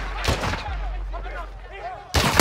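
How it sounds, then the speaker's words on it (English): Gunfire in Call of Duty: Modern Warfare II: sharp, loud bursts of shots crack near the start, then quiet game ambience with faint tonal sounds follows, before another heavy burst erupts at the end. "We're taking fire."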